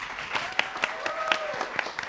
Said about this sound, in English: Nice big round of applause for them.